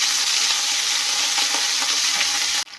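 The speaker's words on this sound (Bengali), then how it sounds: "আদাটা ভাজা ভাজা হয়ে গিয়েছে" Ginger paste fries in a pan with green chillies and cardamom for an egg and cauliflower curry, a loud, dense, steady sizzle that cuts off abruptly at the end.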